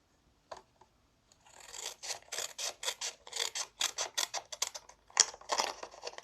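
Scissors cut along the score lines of a piece of card in a quick run of close, crisp snips, after a couple of isolated clicks.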